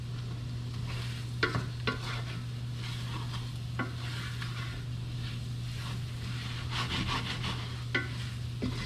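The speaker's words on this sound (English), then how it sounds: "So I'm gonna cook this for a minute or so, but not more than that, because I don't want to brown the roux" A roux of flour and fat cooks in a pan for clam chowder, giving a soft continuous sizzle under a steady low hum, with occasional scrapes and clicks of stirring.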